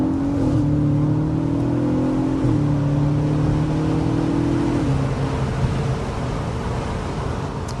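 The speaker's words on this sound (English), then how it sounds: "an NA engine just carries on revving, and it's just them downshifts" Naturally aspirated Audi RS engine revving steadily and stepping down through downshifts, with loud, continuous engine tone that drops in pitch at each gear change, no talking.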